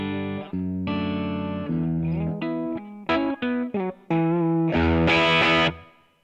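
Electric guitar through a BOSS GT-1000 amp model breaking up as the playing digs in, soft notes and short stabs giving way to louder, crunchier strums.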